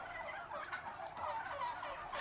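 Turkeys gobble continuously in a farm setting, a busy chorus of overlapping rattling calls at moderate distance with no talk over them.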